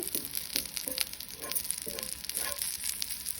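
Brussels sprouts frying in a pan with a soft, steady sizzle and occasional faint crackles, quiet and continuous throughout.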